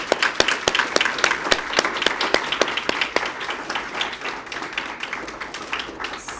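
Audience applause for performers at a regional Poetry Out Loud competition, a room of clapping with distinct loud near claps that thins slightly toward the end.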